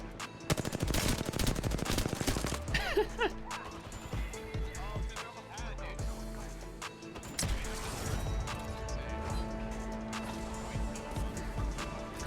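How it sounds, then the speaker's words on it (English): Gunfire in an Apex Legends match on the World's Edge map, with dense automatic bursts at the start and then scattered shots, impacts and rattling weapon noise continuing under the game's background sound. "Getting shot at."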